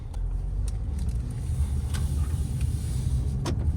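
A brand-new 2023 Ford Escape SUV pulls onto a road, heard from inside as a steady, loud low engine and tire rumble with no talking.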